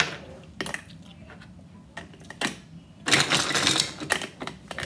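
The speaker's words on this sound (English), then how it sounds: "I'm going to put a little bit more ice in it." Ice cubes drop into a glass of fruit-infused spring water, making sharp clinks and clatters in scattered bursts, ending in a louder rattling cluster, close up and without talk.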